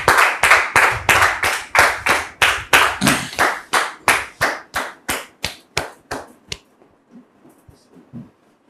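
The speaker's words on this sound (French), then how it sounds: "Merci, public, de recevoir ici et maintenant notre sœur Georgette, sous vos applaudissements" Audience applause welcoming a guest onstage: rhythmic, sharp claps in a steady beat, loud and close, gradually slowing and fading into a few sparse taps at the end, with no speech.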